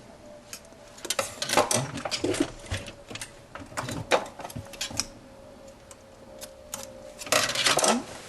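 A sewing machine stitches the seam of a kit-made "Brigand" jacket in bursts of fast mechanical whirring and needle ticking, pausing between runs, with light clinks and handling nearby.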